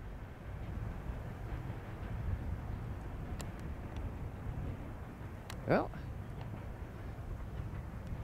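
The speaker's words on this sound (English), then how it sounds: "Westbound tank train" A westbound CN tank train passes as a low, steady rumble of rolling cars that continues throughout, with a brief squeal or rattle near the end and someone speaking briefly over it.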